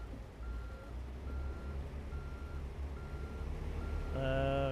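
A truck's reversing beeper in American Truck Simulator chirps at a steady interval over a low engine rumble, with a louder harmonic tone rising near the end.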